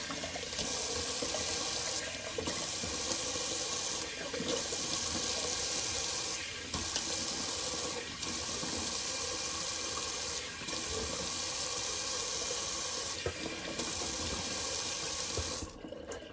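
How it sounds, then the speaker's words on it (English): Cold water runs steadily from a bathroom sink tap for a rinse, a close, continuous splashing hiss with brief dips as hands pass through the flow, cutting off at the end. "little cold water rinse"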